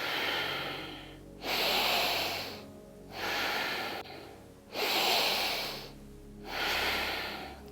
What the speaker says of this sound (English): So inhale up, exhale down.